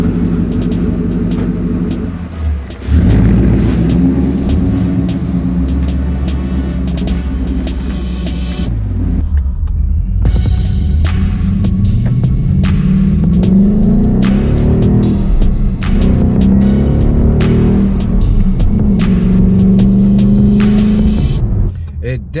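A 2016 Ford Mustang GT's engine rumbles loudly and close, a deep throaty idle that swells into revs and surges, with a brief lull before the low growl returns and holds steady.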